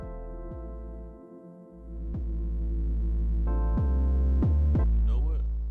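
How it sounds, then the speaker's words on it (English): An 808 bass run through a Spaz distortion plugin, with repeated deep, buzzing bass notes that swell and grow thicker partway through, the pulses loud and close with no voices. "you're getting the spaz effect, the distortion effect right here"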